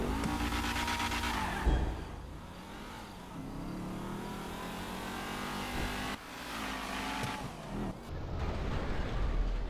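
A car speeding toward a swimming pool in the video game GTA 5, engine revving hard with rising and falling pitch through gear shifts, loud and close, no talking.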